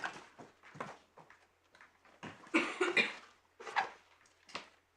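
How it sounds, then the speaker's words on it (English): A person coughs repeatedly in short, irregular bursts with some throat clearing, heard up close in a quiet courtroom setting. "I apologise for my cough."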